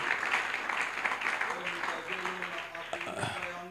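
A church congregation applauds and acclaims during a French-language sermon, a dense, steady wash of clapping and cheering voices throughout, with a shouting voice rising over it in the second half.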